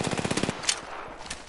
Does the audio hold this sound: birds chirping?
no